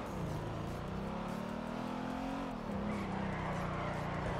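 A Mustang in GTA 5 drifting with the engine revving hard, a loud continuous engine drone that dips and climbs in pitch, with tire squeal mixed in, close and alone.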